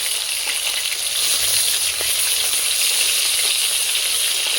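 Shol fish, about one kilogram, frying in oil over a wood fire, giving a loud, steady, close-up sizzle and hiss with faint crackles throughout and no talk.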